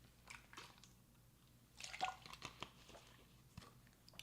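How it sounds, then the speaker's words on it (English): A person takes a quick drink of water, with soft sips, a swallow and small wet mouth sounds clustered in the middle, faint and close against a quiet room. "I'll take a quick drink of water"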